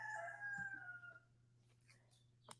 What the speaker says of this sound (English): that annoying rooster, that fighting rooster we have out there